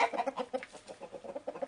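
Crossbred chickens cluck close by in quick, rhythmic bursts of short clucks. No voices are heard.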